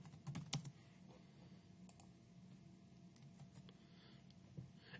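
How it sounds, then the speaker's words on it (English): Computer keyboard typing into a Microsoft Word document online, a quiet patter of keystrokes with a busier burst near the start and scattered clicks after it, faint and close with no talking. "And when you type your paragraph"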